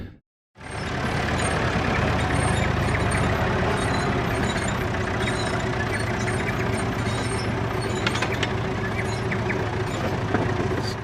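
An old David Brown tractor grades a long driveway with its tilting blade, its engine droning loud and steady at close range, with faint clanks and rattles over the continuous rumble.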